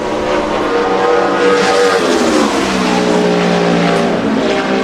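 A loud NASCAR stock car roars past close by on a qualifying lap at Dover in 2010, its engine pitch rising and then sliding down as it passes, with a faint tire squeal and no talking.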